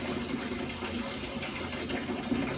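Water from a shower in an Indian bathroom at an Ayurveda panchakarma retreat, set to run only at the bottom, pours in a steady, dense splashing stream, close and continuous without any talk.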